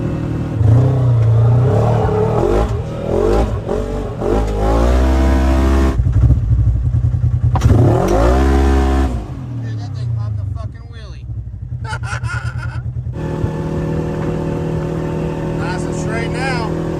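A tuned Polaris RZR side-by-side drives with a rough, rising and falling engine roar and some clatter, switching between revving bursts and lower idle, while someone talks over it.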